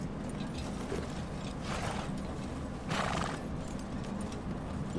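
Horse in the Red Dead Redemption 2 video game, with steady hoof clip-clop over a constant low rumble, brief whinny-like bursts rising around the second and third seconds, no talking.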